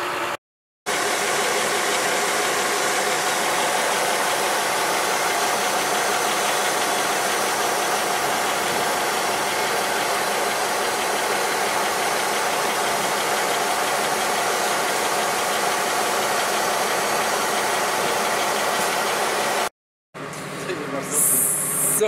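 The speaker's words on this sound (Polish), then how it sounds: "teraz jedziemy już opryskiwaczem" A tractor pulling a crop sprayer runs steadily while driving in a field, a loud continuous engine drone with vibration, cut briefly near the start and end.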